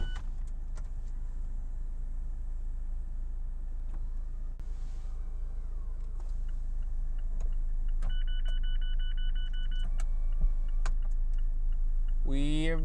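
Retractable hardtop roof of a 2019 Mazda MX-5 RF closing while the car is moving: electric motor whirring with clicks and ticks and a latching chime, over steady road and engine rumble.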